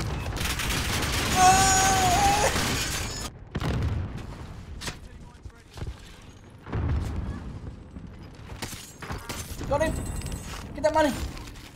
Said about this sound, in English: Precision airstrike now.